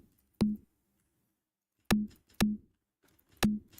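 Layered snare sample built with a snapped transient taken from a roughneck snare, struck four times in an uneven pattern, each hit a sharp crack with a short tonal body, dry and alone with silence between.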